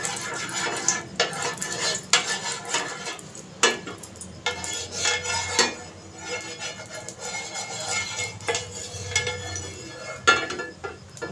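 A metal utensil scrapes and clinks against a hot pan while spreading oil around it for an egg roll, giving intermittent close taps and scrapes under a soft background hiss.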